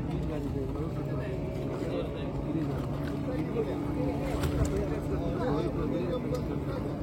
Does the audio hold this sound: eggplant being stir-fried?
no